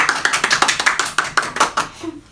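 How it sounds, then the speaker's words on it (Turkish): A few family members clap at a small lively gathering, a short run of distinct hand claps close by, slightly irregular in rhythm, thinning out at the end. "Alkışlayın aile."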